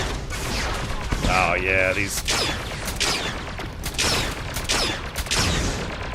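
Gunfire in the Starfield video game with the Star Wars Genesis mod, repeated sharp blaster-style shots in irregular bursts mixed with someone talking over them.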